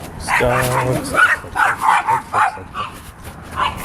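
Several dogs barking in a room, a burst of rapid yapping barks close by and loud, with a long whine near the start and a voice briefly speaking among them.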